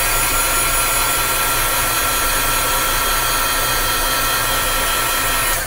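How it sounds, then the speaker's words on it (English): A heat tool blasts a steady, loud, even whoosh of hot air to set freshly stamped ink on a card, unbroken and with no talk over it. "Now this ink does take a second to dry, so I am going to heat set that real quick"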